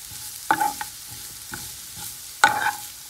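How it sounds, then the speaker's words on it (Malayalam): Garlic sautéing in sesame oil with chili powder, with a soft steady sizzle beneath a few sharp spoon scrapes and clinks against the pan, close and spaced about a second apart. "ഇനി ഇത് ബ്രൗൺ ആയിട്ട് വഴറ്റി എടുക്കണം"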